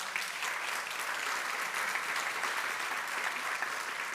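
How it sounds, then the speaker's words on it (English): Applause from a large audience at the European Heritage Excellence Day 2026 awards in Nicosia, a full, sustained roar of many hands clapping at a steady level from start to finish, with no talking. "So a big applause also for them"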